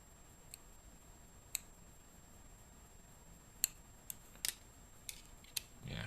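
Scissors snip nylon thread on a wig, several faint, sharp isolated clicks spaced irregularly over a quiet background, with a soft rustle at the end.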